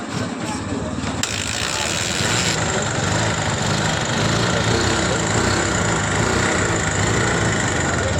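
An old-model Bajaj Pulsar 150cc motorcycle with a CDI fault starts up and settles into a loud, steady engine run after a brief mechanical clatter, close and continuous.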